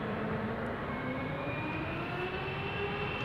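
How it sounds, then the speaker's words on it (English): A Boeing 777-300 jet at Amsterdam Schiphol Airport gives off a steady, distant engine roar with a faint rising whine, continuous and unaccompanied by voices. "This is a 777-300 the PHBVF, 14 years old, first flight January 2011."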